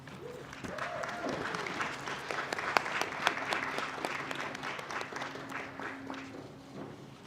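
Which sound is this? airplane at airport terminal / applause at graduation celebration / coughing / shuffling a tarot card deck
applause at graduation celebration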